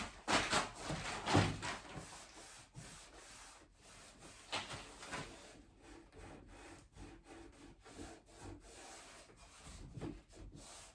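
Old lint-free t-shirt rag wiping Dixie Belle black wax off a wooden surface, a run of close, soft rubbing strokes with a few firmer swipes, steady and repeated with no talking.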